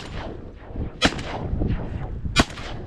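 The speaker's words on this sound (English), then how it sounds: "Here, any shoot these?" Two sharp shotgun blasts about a second and a half apart while duck hunting in South Dakota, close and loud over a windy outdoor background.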